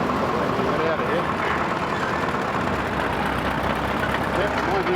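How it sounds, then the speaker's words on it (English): A 1928 Caterpillar tractor engine runs at a machinery show near Ashburton, a steady low chugging drone with a rough mechanical texture that holds constant throughout, while people talk nearby. "Yep, 1928 tractor."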